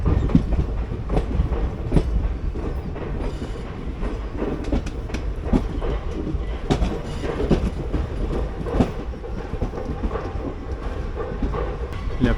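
Sleeper-class carriage of the 16343 Amritha Express from Palakkad to Madurai rolling along, with a steady rumble and clattering wheels running continuously near and loud, some faint voices mixed in.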